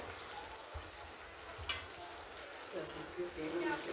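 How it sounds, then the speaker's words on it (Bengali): Chicken pieces frying in oil in a lidded pan, with the oil starting to release. A faint, steady sizzle runs throughout, with a few soft clinks and stirring scrapes near the end. "দেখুন এখনো মাংস মানে চিকেন হচ্ছে"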